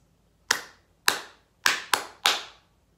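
Five sharp hand claps ring out in an uneven pattern, two evenly spaced, then a quick pair and a final clap, clear and close in a quiet room, played as a forbidden rhythm in a children's clapping lesson.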